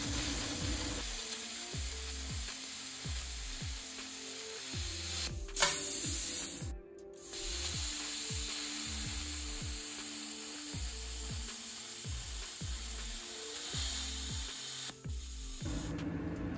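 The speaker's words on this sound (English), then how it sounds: "now the same settings, and we're gonna try to cut this piece of sheet aluminum" Bestarc BTC500DP plasma cutter slicing through sheet aluminum, a steady hissing roar with rapid ratcheting crackle and buzz running throughout, briefly dipping near the middle before resuming at constant loudness.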